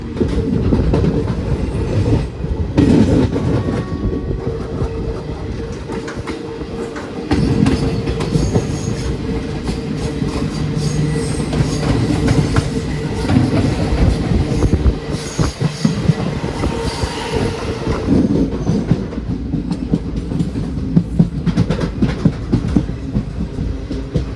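A Palaruvi Express train rumbles steadily along the rails between Ernakulam and Kollam in Kerala, wheels clattering and occasionally squealing, loud and close as if heard from on board.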